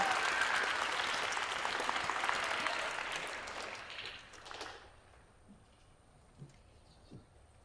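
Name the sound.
applause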